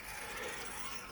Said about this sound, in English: this is the sound of the gear when I'm braking,